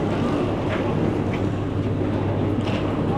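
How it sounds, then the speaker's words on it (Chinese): A passenger ferry crossing by sea gives a constant low engine drone and churning hull noise with wind buffeting across it, steady and close throughout the short stretch. "这个轮渡时间应该挺快的，应该也就10分钟左右"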